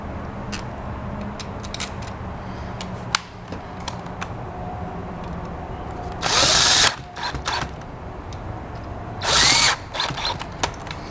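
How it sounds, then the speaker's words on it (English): A power drill drives screws in short bursts, two loud whirring runs separated by quieter clicks and handling noises of fitting a part, close by with no talking. "Replacing the screws."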